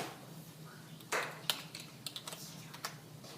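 Keys clatter on a computer keyboard during a spelling quiz, a short burst of quick, close, separate taps after a quiet start.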